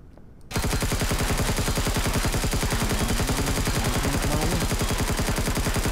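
Rapid automatic gunfire in the Empyrion video game, aimed at the player's ship: a loud, continuous, evenly spaced stream of shots that starts abruptly after a brief quiet moment and runs without pause.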